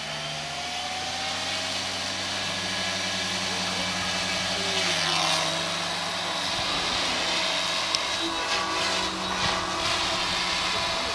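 An SAB Goblin RC helicopter's electric motor runs steadily in a sustained, even whine with a faint background hum, continuing throughout without talking.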